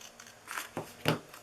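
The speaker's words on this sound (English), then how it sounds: "I'm going to cut this little end off right here" Scissors snip the end off a small paper piece for a glue tab in a craft project: two or three quick, close, crisp cuts, faint and brief, with no talking.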